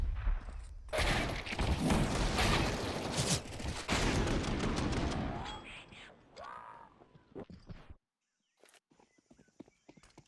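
A Counter-Strike: Global Offensive match at the IEM Rio Major 2022 erupts in dense, rapid gunfire for several seconds. The shooting then fades into sparse clicks and quiet, with commentators talking over the action.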